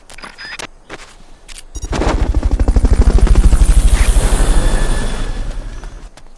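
Game helicopter from Metal Gear Solid Peace Walker thumps in with a steady, loud rotor beat that holds for several seconds before slowly easing off, following a few sharp clicks at the start.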